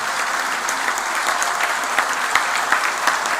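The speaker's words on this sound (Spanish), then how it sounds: "les pido que recibamos con un fuerte aplauso al ingeniero Daniel Martínez" Loud, dense applause from a lunch audience welcoming engineer and presidential candidate Daniel Martínez, an even continuous roar of many hands with scattered sharper claps, no speech over it.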